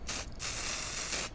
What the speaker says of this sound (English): And you can spray it as thick as you want or as light as you want.